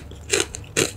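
Two crisp crunchy bites into a snack, close and sharp, spaced about half a second apart against a quiet background.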